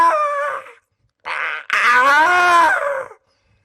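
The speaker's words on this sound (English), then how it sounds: "This is screaming." A screaming sound effect from a Weird West horror video game, with strained, drawn-out vocal cries in two short bursts, then a longer, louder wavering scream, heard alone and close.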